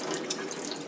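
Tap water runs steadily through an N95 respirator mask, a close, continuous splashing rush with small bright spatters and no voices.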